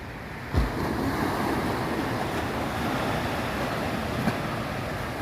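Steady ocean surf rolling onto Phayun beach in the early morning, a continuous close wash of waves with wind buffeting the microphone and a brief thump near the start.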